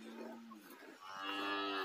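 A Caracu cow on a farm gives a loud, close moo in the second half, a steady drawn-out low call after a quieter stretch of faint farmyard sounds.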